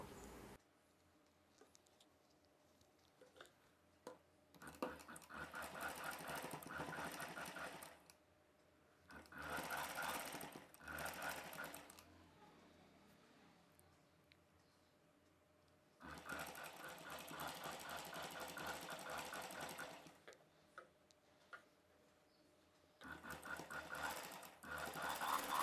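A sewing machine stitches a gown neckline in several separate runs of rapid, close mechanical whirring, with quiet gaps between them and a final short burst.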